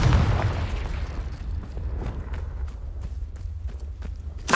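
Confringo explosive spell blast in the Hogwarts Legacy video game: a heavy boom at the start decays into a rumbling tail, with scattered sharp crackles and small pops following, then a fresh burst right at the end.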